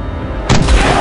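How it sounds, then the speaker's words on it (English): A single shotgun blast fires in the video game Larva Mortus, a sudden loud, close boom that cuts through steady background game noise and rings out briefly. "it's a shotgun"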